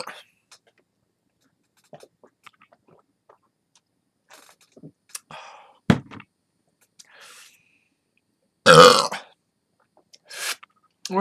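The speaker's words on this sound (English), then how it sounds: "We're making some burps, too." One loud, throaty burp stands out amid near-silence, surrounded by faint whispering, small clicks and scattered soft noises.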